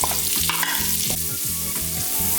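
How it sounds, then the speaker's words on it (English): Onion frying in bacon grease in a pan, a loud continuous sizzle with stirring scrapes and crackles, close up and steady. "this is the bacon grease that we used earlier. I'm frying the onion in."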